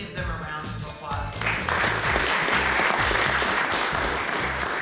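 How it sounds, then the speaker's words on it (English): A room full of people applauds steadily for representatives of Bass Pro, the clapping building after a second into a loud, dense, sustained ovation. "could we just give them a round of applause?"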